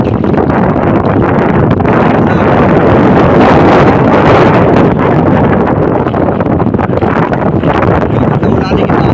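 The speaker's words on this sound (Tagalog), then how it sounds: "malakas ang hangin" Strong wind at sea on a small boat, with loud, constant gusts buffeting the microphone and a rough rushing roar over the water the whole time.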